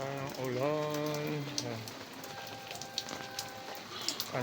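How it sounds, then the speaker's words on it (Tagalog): Steady rain patters down continuously, with a voice briefly speaking at the start. "Hinabutan naman tayo ng ulan."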